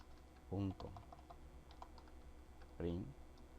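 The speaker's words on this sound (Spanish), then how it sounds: "yo me voy acá y escribo debut.print" A computer keyboard clicks with scattered light keystrokes while code is typed in Visual Basic 6, faint and close, broken by two brief louder bumps.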